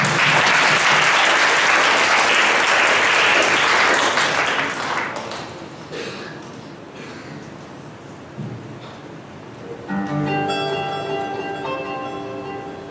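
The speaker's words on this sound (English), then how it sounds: "by giving them a big applause" A school audience at a reader's theatre event applauds to welcome the next class onto stage, loud sustained clapping that fades after about five seconds into scattered claps and room noise, then music begins.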